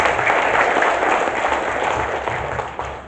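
A roomful of women at a Golkar party gathering in West Java bursts into applause, a dense, fairly loud patter of clapping that tapers off slightly toward the end.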